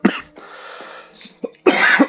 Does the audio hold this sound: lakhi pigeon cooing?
no